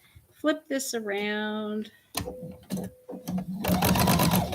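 A domestic sewing machine stitching fabric strips for a quilt block, running fast in a steady whirring burst, then short stops and a final loud run, with someone talking between bursts.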